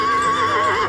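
A heavy horse being harnessed lets out a loud, close, brief neigh, with a wavering whinny that fills nearly the whole clip and then stops.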